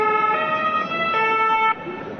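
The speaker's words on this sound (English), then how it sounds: "Ambulances streamed into the site" Ambulance sirens wail at a police stand-off site, two overlapping sirens with stepped tones sounding loud and steady, then shifting pitch before easing slightly near the end.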